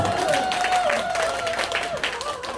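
Steady applause from a church crowd at a scripture recitation contest fills the whole moment, a dense wash of clapping with a Korean voice carrying over it.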